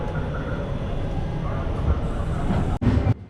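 Train standing at Kollam Junction railway station in Kerala, a steady low rumble of idling rolling stock and station noise throughout, briefly cut and then swelling louder near the end.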